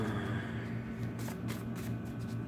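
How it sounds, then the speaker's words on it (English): Playing cards are riffled and shuffled in quick, soft bursts against a quiet steady hum, fairly faint and close. "I know sometimes that shuffling can be pretty loud"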